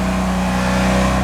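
A car engine, loud and close, runs with a steady, strong hum that rises slightly toward the end, with no voices over it.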